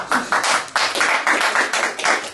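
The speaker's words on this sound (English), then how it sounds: "Let's give them a round of applause for that." Close, fairly loud clapping with a quick, even rhythm, with no voices over it.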